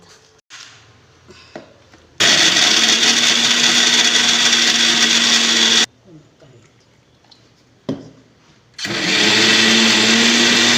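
A mixer grinder blends coconut and cumin for sambar in loud, steady whirring bursts of several seconds each, separated by quieter gaps filled with faint handling clatter and knocks.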